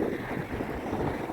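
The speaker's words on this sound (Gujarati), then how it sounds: "ગજની ગતિ પ્રમાણે તમને આઈડિયા આવી જશે કે પવન કેટલો હશે" Strong wind buffeting the open air near windmills along a pilgrimage road to Dwarka, a continuous rough roar with steady rumbling gusts and no voices.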